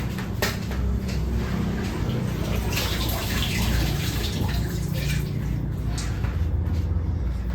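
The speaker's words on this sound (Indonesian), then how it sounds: "Tak cuci tangan dulu" Tap water runs steadily while hands are washed, a close, continuous rushing splash with a few brief knocks and clatters throughout.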